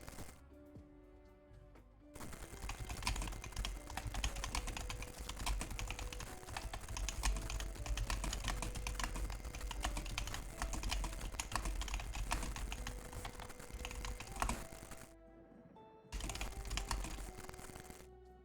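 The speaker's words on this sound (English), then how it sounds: "I'm just typing in the chat of the group while we wait for the player to load on in." Rapid typing on a computer keyboard, a dense run of quick key clicks that is close and steady, with brief quiet gaps at the start and near the end.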